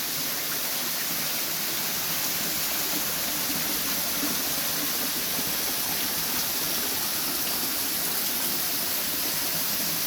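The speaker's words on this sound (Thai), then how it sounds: "แวดล้อมด้วยน้ำตก" A waterfall in a Himalayan forest pours in a steady, dense rush of broadband hiss, unbroken and even for the whole stretch, moderately loud with no voices or other sounds on top.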